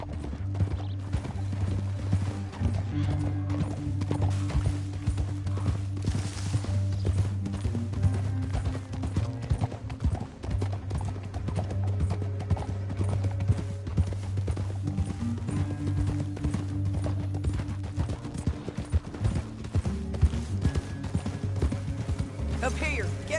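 Horse hooves clip-clop steadily in Red Dead Redemption 2, mixed with an occasional whinny and a low, droning game score, while characters talk over the riding throughout.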